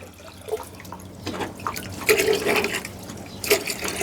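Water trickles and splashes into a container in short bursts, with soft drips and gurgles close by, no voices, as an animal's water is refilled.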